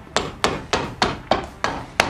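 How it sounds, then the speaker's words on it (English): Seven sharp hammer blows on leather in a workshop on a rainy day, struck close and loud in a steady, evenly spaced rhythm with no talking. "You get the hammer stuff."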